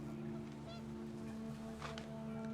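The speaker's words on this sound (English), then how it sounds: "I heard a goose." Geese honk in the video game What Remains of Edith Finch, a few faint calls over a steady droning ambient background, with no talking.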